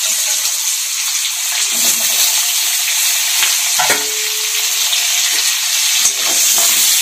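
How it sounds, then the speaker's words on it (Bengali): Potatoes fry in leftover oil from frying eggs, a loud, dense, continuous sizzle with faint spatters and occasional utensil knocks close by. "ডিম ভাজার তেলের মধ্যে আমি আলুগুলোকে ভেজে নেব।"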